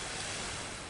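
Ocean waves washing onto a Jamaican beach, a steady, close, full-bodied broadband surf roar with no break and no voices.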